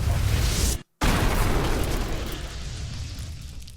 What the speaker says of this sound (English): the explosion could be heard from over a mile away.